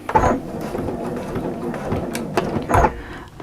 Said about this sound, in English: and I'm going to do a little back stitch.